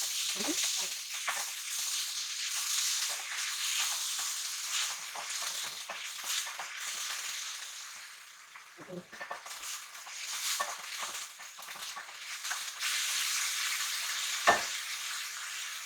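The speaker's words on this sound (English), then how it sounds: "Stir it until the color pink becomes white." Minced beef fries and is stirred in a pan, giving a steady hiss of sizzling with frequent soft scrapes and clicks from the stirring. The sound stays close and continuous, dipping briefly at one point.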